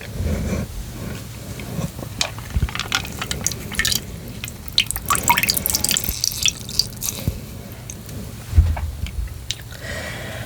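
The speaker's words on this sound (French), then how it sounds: "Je vais remettre un peu d'eau." Water being added during a personal-care ASMR session, with close, soft drips and small wet squishing sounds scattered irregularly over a quiet background.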